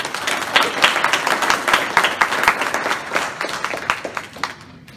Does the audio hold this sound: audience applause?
yes